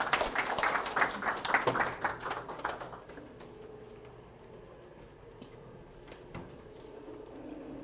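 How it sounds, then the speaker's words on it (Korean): A civic forum audience gives a short burst of scattered clapping for an introduced speaker, fairly soft and fading out after about three seconds into a quiet room with a few isolated knocks. "큰 박수 부탁드리겠습니다"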